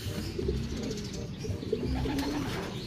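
Pigeons coo steadily in a bird loft in Pasacao, Camarines Sur, with soft overlapping murmuring calls that continue without a break.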